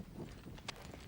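Polo pony hooves clip-clopping: a short, faint run of soft irregular hoof thuds on turf, heard alone with no talking.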